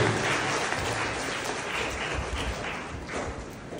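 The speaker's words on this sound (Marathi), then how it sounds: "शाल गळ्यात पडली की टाळ्या वाजवायच्या." An audience applauds at an award felicitation ceremony, with dense steady clapping from a crowd that carries loudly throughout and eases slightly toward the end.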